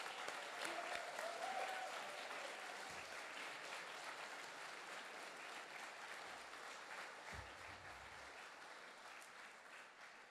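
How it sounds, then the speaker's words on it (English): Audience at a residency graduation ceremony gives the graduates a steady, sustained round of applause, dense clapping from a large crowd filling the hall and slowly tapering across the stretch, with no talk over it. "let's give our graduates one more round of applause"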